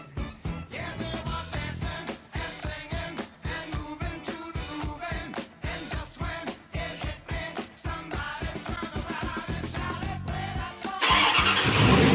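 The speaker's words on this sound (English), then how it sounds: "now that my car is up and running" A Chevrolet C4 Corvette engine runs close and loud after repair work, still without coolant, with a steady pulsing, lumpy throb throughout and a brief burst of harsher noise near the end.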